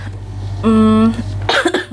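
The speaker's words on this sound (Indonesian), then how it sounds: "Aduh, sorry aku batuk." A single sharp cough breaks out suddenly, close to the microphone, after a brief stretch of voice and steady background hum.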